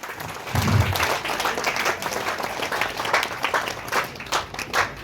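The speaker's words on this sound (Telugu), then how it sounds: "అందరూ లేచి చప్పట్లతో ఆహ్వానించాల్సిందిగా కోరుతున్నాము." An audience stands and applauds to welcome a police DSP at a drug-prevention awareness event in Alkapuri Colony, Nalgonda, with steady close clapping that swells and fades over five seconds and a brief low thump near the start.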